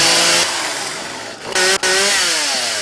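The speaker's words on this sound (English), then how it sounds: "I'm gonna try to chainsaw some of them." A chainsaw revs in the survival zombie game 7 Days to Die, a loud buzzing snarl with rising and falling engine pitch and a short cut-out near the end before it roars back.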